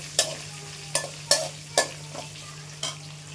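Green chilli and ginger frying on a low flame, with several sharp stirring scrapes at irregular intervals over a soft steady sizzle and a low electrical hum; no one speaks.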